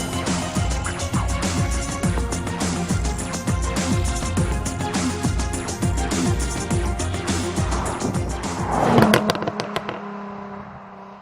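A 2013 Porsche Cayman with a PDK dual-clutch gearbox accelerates hard, its engine note climbing through rapid gear changes in a loud continuous run that swells near the end, then drops away to a quieter hum.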